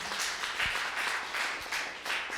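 A church congregation claps for Jesus Christ during a Spanish-language service, the faint, steady clapping sounding in swelling waves with no talk over it.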